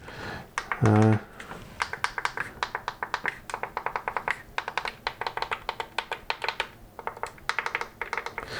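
Clicky buttons on a Toshiba Aurex AX-WSS60 speaker are pressed repeatedly, producing close, sharp, crisp clicks in quick bursts and steady runs with short pauses, plus one brief hum-like tone near the start.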